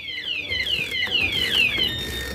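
A piercing electronic anti-theft alarm siren on a Honda Wave 125 LED motorcycle wails in repeating falling sweeps, loud and close, over a low background rumble.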